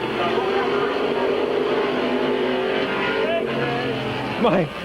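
Race cars roar loudly and continuously at Midvale Speedway, a steady dense engine drone with a car revving higher near the end, while an announcer talks over it.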